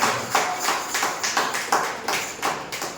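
A church congregation at a Sunday service claps together in a loud, steady run of about eight to nine bursts, each sharp onset fading quickly, with no voices over it.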